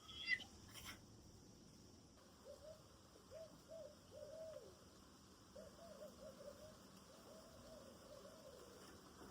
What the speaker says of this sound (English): Penny, those are owls. They're back.